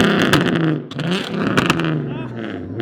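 A car with a 3.8 automatic engine revs hard to shoot exhaust flames, with rising and falling roars and sharp pops, loud and close, while people talk over it.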